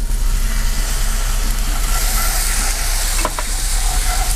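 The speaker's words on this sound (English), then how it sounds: "we're ready for some tomato to hit that" Tomato puree hits a hot, sizzling roux of milk and cream, giving a loud continuous frying hiss with stirring, and a brief splash-like burst near the end; no one speaks.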